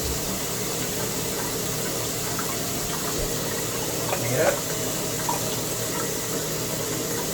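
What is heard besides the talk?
shower water rinsing out a shaving brush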